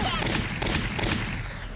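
Rapid gunfire in the video game Valkyria Chronicles, a dense burst of overlapping shots, loud and continuous throughout, with no voice over it.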